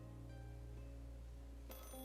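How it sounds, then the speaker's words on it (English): A phone rings in the Assemble with Care video game, a soft electronic tone that chimes over a steady low hum and brightens sharply near the end. "Just then, the phone rang."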